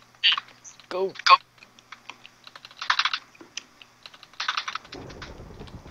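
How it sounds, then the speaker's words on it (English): Computer keyboard typing during a Minecraft Hunger Games session, bursts of rapid clicking keystrokes in short clusters, close and loud, with brief voices between bursts. "Wait, is that my keyboard or your keyboard?"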